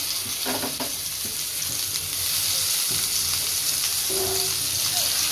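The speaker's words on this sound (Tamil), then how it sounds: "இப்போ எண்ணெய் நல்லா சூடாகிடுச்சு இதில் வந்து நம்ம மிக்ஸ் பண்ணி வச்சுருக்க அந்த கருவாடை வந்து சேர்த்துக்கலாம்" Dried fish fries in hot oil, a loud, close, continuous sizzle that swells slightly after a few seconds, with faint stirring clinks.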